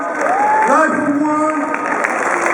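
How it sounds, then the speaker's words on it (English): Crowd at the Juste Debout 2012 hip-hop dance battle final in Switzerland applauding and cheering in a dense, steady wash of claps, with whoops and voices rising over it. "On laisse applaudir fort s'il vous plaît."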